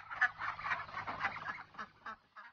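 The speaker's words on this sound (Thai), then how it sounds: "เมื่อกี้ได้ยินเสียงเป็ดแสดงว่ามีเป็ดด้วยนะครับ" Ducks at a farm where chicks are raised quack in a quick run of calls, fairly close but soft, then trail off into a few scattered quacks with quiet gaps between.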